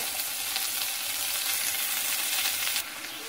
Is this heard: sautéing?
yes